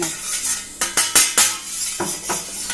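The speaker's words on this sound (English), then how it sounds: "I'm going to spread all of the ghee in the plate." Ghee is spread across a metal plate with a utensil, giving a few sharp scraping clinks at an irregular rhythm, close and fairly loud, with no talk.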